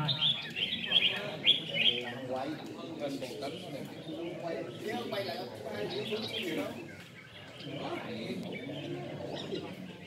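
A red-whiskered bulbul sings at a bird song contest, giving bright chirpy phrases among other birds' cooing and calls, while someone speaks over the birdsong throughout.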